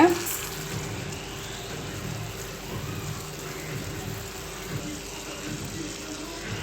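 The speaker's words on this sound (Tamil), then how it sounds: "அடுப்பில் வந்து ஒரு பாத்திரத்தில் தண்ணி கொதிக்க வச்சுருக்கேன்" Steady bubbling hiss of salted water boiling in a pot on a stove, continuous and moderately loud throughout with a soft low rumble beneath.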